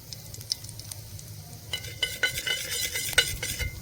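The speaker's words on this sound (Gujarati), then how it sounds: "તેલ ગરમ થઈ જાય એટલે એમાંથી થોડુંક એવું જીરું નાખીશું" Cumin seeds hit hot oil and crackle, starting quietly and building to a dense, bright sputter with rapid pops over the last couple of seconds, close up and with no voices.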